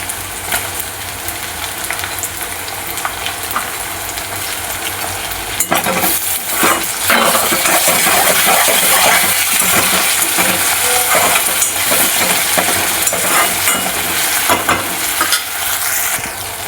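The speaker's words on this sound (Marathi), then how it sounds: "कांदा चांगला भाजत आहे. टोमॅटो टाकूया." Chopped onion and tomato frying in a pan for a Kolhapuri-style mutton and vajdi fry, a steady sizzle that grows louder and busier partway through, with scraping stirs and occasional clinks of a utensil against the pan.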